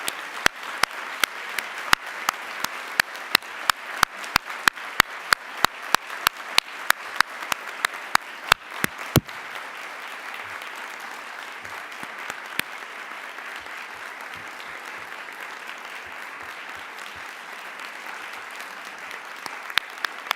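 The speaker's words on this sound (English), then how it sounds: "please stand up so every one of us can give them a round of applause" Audience applause for a congress organizing committee at an annual general assembly, a dense burst of clapping with sharp individual claps that thins out midway and fades to scattered claps over room noise.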